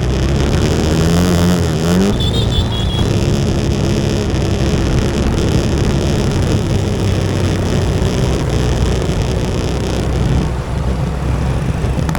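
Street traffic in Vietnam passes close by in a steady, loud roar of engines, with a brief rising whine near the start and no talk over it.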